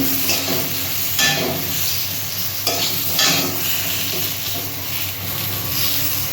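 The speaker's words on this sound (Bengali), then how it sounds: "পটলগুলো ভাজা ভাজা হয়ে এসছে" Pointed gourd (potol) frying in a pan crackles with a loud, continuous close sizzle, broken by a few scraping stirs.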